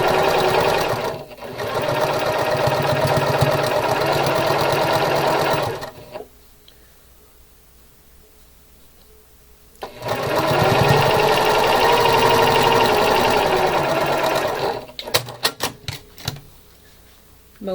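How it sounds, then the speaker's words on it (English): Sewing machine stitching pinned quilt pieces together in two long, steady runs of rapid mechanical whirring, loud and close, with a quiet pause between and a few clicks at the end. "now we can sew that together"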